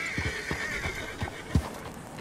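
A horse in the Red Dead Redemption 2 video game gives a short neigh over soft clip-clop hoofbeats, with a sharp thump partway through, fairly quiet overall.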